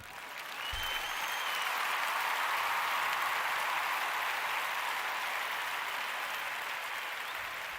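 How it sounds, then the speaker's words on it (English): Sustained applause from a comedy club audience, loud and steady throughout with dense clapping and no talk over it. "give yourselves a round of applause"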